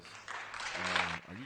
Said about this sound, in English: Please cue the applause.